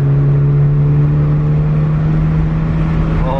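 A straight-piped Ford Fusion roars close by under hard throttle, its exhaust and turbo holding a loud, steady droning growl throughout with no talking.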